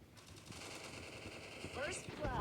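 Automatic weapons fire in a team shooter video game, with rapid bursts of gunshots crackling through the game mix while a voice talks over it.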